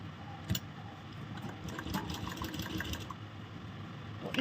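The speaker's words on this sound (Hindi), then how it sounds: "अभी यहाँ से हम सिलाई लगाएंगे।" A sewing machine stitches the neckline of a kurti, a faint, soft mechanical whirring with a small click near the start, running quietly throughout.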